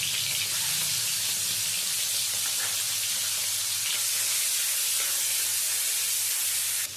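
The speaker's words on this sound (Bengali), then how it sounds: "ওই তেলের মধ্যে এবারে চিংড়ি মাছগুলো ভেজে নেব" Shrimp fry in mustard oil, giving a loud, dense and even hiss close by that holds almost unchanged for several seconds, with no talking.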